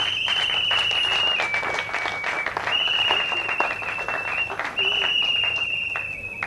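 An audience applauds the director at a diploma award ceremony, with steady clapping throughout and a sustained high electronic whine, like microphone feedback, recurring over it.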